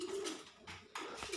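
A young pigeon near its coop gives a few soft, low coos in quick succession, faint and close with no talk over them.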